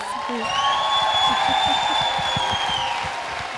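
Audience at a conversation event with Ava DuVernay applauds and cheers, with scattered clapping under a held whoop or shout from the crowd.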